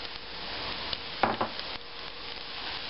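Carrots and chicken with salt, pepper and turmeric being sautéed in a pan: a soft, steady frying hiss with a few brief scraping stirs near the middle, no talking.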